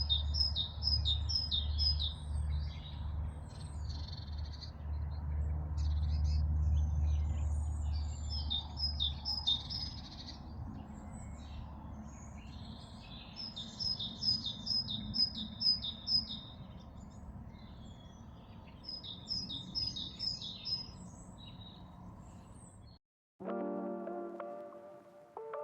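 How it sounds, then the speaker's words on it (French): Birds sing outdoors under a spring sky, repeated bright chirping phrases at moderate distance over a soft steady background, with no one talking, followed by a short tonal electronic sound near the end. "Ces oiseaux qui chantent."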